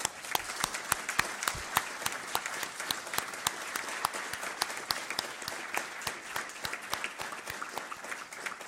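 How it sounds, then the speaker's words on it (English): Audience claps for an honorary doctorate recipient at an academic ceremony, a moderately sized crowd with distinct, sharp individual claps in a steady patter at middling volume. "je vous demande d'applaudir et d'accueillir avec honneur et fierté le professeur Klaus-Jürgen Bathe"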